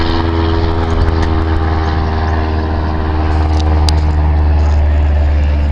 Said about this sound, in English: Someone's private jet, private plane going over.